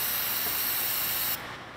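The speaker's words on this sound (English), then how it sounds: "Some brake cleaner." Brake cleaner is sprayed onto new brake rotors on a 2003 Ford Expedition, a close, loud continuous aerosol hiss lasting over a second before it stops, leaving quieter background.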